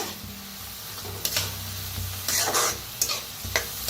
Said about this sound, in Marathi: आता डाळीला बी का नाही भाजून घेऊया कांद्याबरोबर